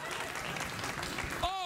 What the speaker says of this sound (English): Oh, that's what you applaud for?